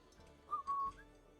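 A person whistles a short, thin two-note tune to imitate an old man whistling from the side of his mouth around a pipe. The whistle is quiet and close, with no talk over it.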